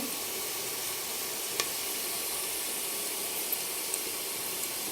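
Onions browned to a golden colour sizzle and fry steadily in a pan with turmeric being added, an even close hiss with a couple of faint clicks and no talking.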